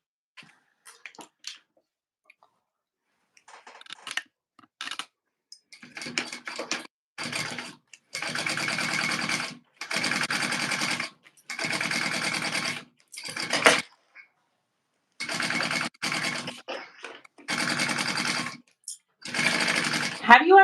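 Several bursts of rapid machine stitching come from a sewing machine sewing a zipper into a tote bag. The stitching starts and stops repeatedly, close and clear, with short pauses between runs.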